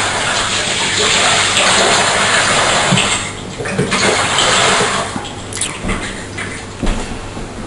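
Water gushes and rushes through newly soldered bath pipes as they are flushed of flux and debris, a loud continuous flow that runs throughout with a few knocks and splashes.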